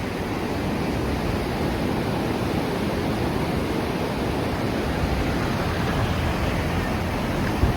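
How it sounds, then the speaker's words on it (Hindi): Flowing water of the Ganga river at the Ganga Barrage bridge, a loud, steady rushing roar that fills the whole span with no voices. "पानी की आवाज़ सुनिए। ये नेचर है, रियल नेचर है"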